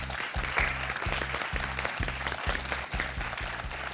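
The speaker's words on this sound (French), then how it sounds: "Anne et Franck applaudissent et vous avez raison parce que là on a une jolie performance." A studio audience on the French TV quiz show Questions pour un champion claps steadily and fairly loudly throughout, a continuous wash of applause with no talking.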